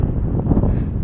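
Wind buffets the microphone on a seaside pier at Cleethorpes, a short burst of loud, low, rushing gusts with no other sounds standing out.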